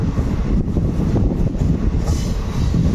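A Secunderabad–Siddipet DEMU train runs on the line between Manoharabad and Siddipet, heard from inside as a loud, continuous low rumble of wheels and carriage with faint rattling, no talking.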